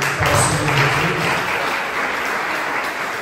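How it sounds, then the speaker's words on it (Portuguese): A church congregation applauds together in steady, dense clapping that fills the space throughout, loud and continuous with no speech over it. "Uma salva de palmas para o Senhor Jesus."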